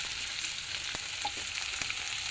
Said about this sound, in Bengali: পেঁয়াজগুলো দিয়ে দিলাম তেলের মধ্যে